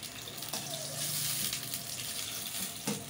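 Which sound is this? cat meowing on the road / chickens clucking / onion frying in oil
onion frying in oil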